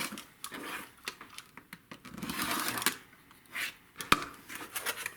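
Fabric quilt block trimmed to 8.5 inches with a rotary cutter along a ruler for a square-on-point block: brief scraping cuts and soft handling sounds, close and quiet, with no talking.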